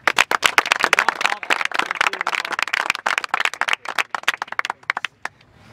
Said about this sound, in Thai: ปรบมือให้มันหน่อย